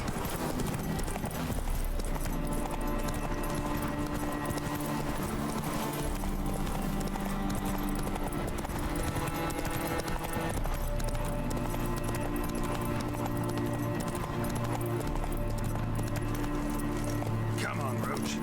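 Hoofbeats of Geralt's horse Roach galloping in The Witcher 3, a steady clip-clop rhythm running throughout under game music and spoken voices.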